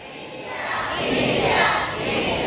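A seminar audience at a parenting talk shouts a response together, a dense, sustained roar of many voices that swells and holds for a couple of seconds.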